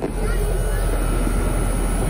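A 2010 Trane XB13 two-ton heat pump with a reciprocating compressor runs in cool mode, heard up close as a loud, steady, wind-like whoosh and hum with no breaks.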